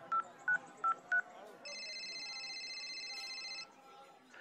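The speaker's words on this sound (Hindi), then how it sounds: "ये कहकर मैंने नरवीर सिंह को फोन लगाया" A phone number is dialed on a telephone keypad: four short, evenly spaced tones, then a steady ringback tone that holds for about two seconds before cutting off.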